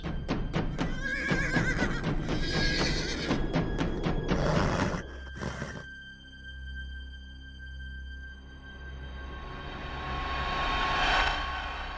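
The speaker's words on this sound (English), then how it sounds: "My steed was Nicholas, a horse with flawless beauty consisting of a silver mane and long tail of pure white fur, iridescent, just like the hair of a fairy." A horse neighs as a sound effect in an animated horror story: a loud, shrill whinny with rapid fluttering pulses opens the clip, then fades into a low hum and a rising airy whoosh that swells near the end.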